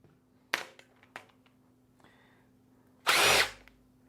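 An impact-style power tool zips bolts out of a Ford 289 small-block engine during a teardown, one short burst near the start and a longer, louder whir later, with small clanks between.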